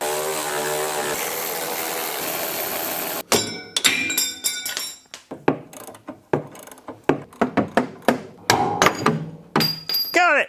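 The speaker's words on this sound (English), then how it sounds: "I'm going to start out by loosening these with a wrench." A wrench works at the U-bolt nuts on a car's axle, giving a run of irregular metallic clicks, ratcheting and clanks close up, after a few seconds of a steady hiss that sounds like lubricant being sprayed.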